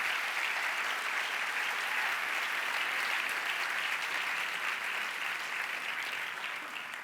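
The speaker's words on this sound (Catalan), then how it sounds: "Un aplaudiment per ells." Theatre audience applauding a saxophone quartet at a civic ceremony, a full, steady roar of many hands clapping that continues without a break and eases slightly toward the end.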